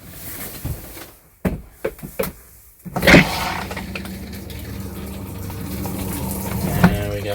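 Water rushes through a Mallard M-185 camper toilet during winterizing, following a few short clunks and a brief silence; the flow then runs steadily, with a pump-like hum beneath it.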